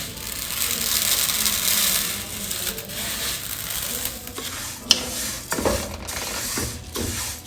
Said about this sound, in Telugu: ఇలా వేపుకోవాలి చక్కగా, మంచి స్మెల్ వస్తుంది వేపుకుంటున్నప్పుడు